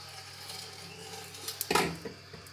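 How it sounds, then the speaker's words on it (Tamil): A metal lid on a kadai used for baking chocolate cupcakes on the stove is lifted with a short clatter and scrape, a brief metallic burst after a quiet, steady hum. "மூடியை திறந்து பாப்போம் கேக் வெந்திருச்சான்னு."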